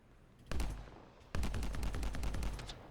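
Sniper rifle fire in the video game Anthem: one sharp blast, a pause, then a rapid run of repeated shots with booming low tails, loud and close.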